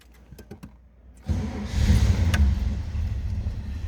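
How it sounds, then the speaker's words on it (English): A 1968 Chevrolet Camaro Convertible engine cranks and catches, then settles into a steady, loud idle rumble after a few quiet clicks. "Let's go ahead and check out how this car sounds, runs."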